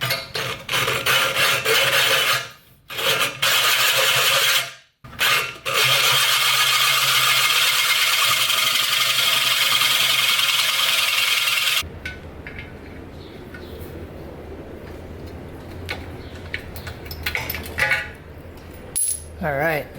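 A power drill drives a hole saw through an intercooler pipe on a twin turbo LS Ranger build until the drill's battery dies: a loud steady grinding rasp with two brief pauses that stops abruptly, leaving quieter background noise and a faint whine.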